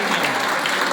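Steady, dense applause from an audience gathered for a cake cutting, sustained clapping throughout with no pauses.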